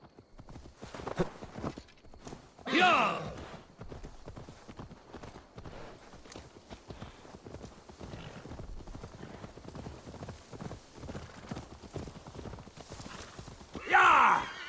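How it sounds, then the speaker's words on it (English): Horse hooves clop steadily in the Assassin's Creed Valhalla video game, a quiet rhythmic walking beat running throughout with two louder bursts of sound near the start and end. "Now to deliver Magni his horse"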